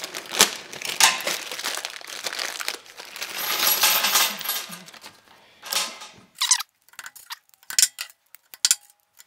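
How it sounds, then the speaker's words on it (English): A plastic bag of shelf hardware and screws being handled, with crinkling plastic and small metallic clinks and jingles in irregular bursts, close and fairly loud, quieter toward the end. "Now here's the bag of hardware."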